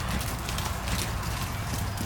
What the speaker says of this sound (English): you're going to lengthen the trot a little bit now.